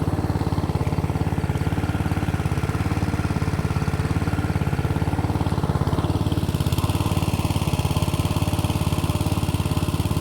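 An engine-driven water pump runs in a rice field, a steady chugging mid-pitched engine drone that carries on unbroken and fairly loud from start to finish.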